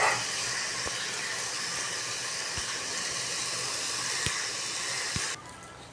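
Corn and mixed vegetables frying in a pan for corn fried rice, giving a steady loud hiss of sizzling with a few light clicks and taps before the sound drops off near the end, no talking.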